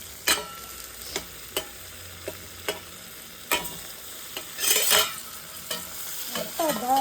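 Eggplant curry cooks in a pan, with a steady frying sizzle broken by sharp, repeated scrapes and knocks of a spoon stirring the vegetables, close up and alone.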